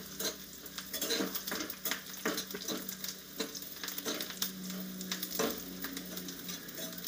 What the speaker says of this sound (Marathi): आणि एका बाजूला असा मसाला परतून घेते